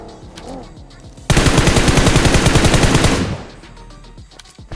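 Loud automatic gunfire bursts from close range in the BGMI PUBG Mobile battle royale game, a dense run of rapid shots lasting about two seconds, with quieter game ambience before and after.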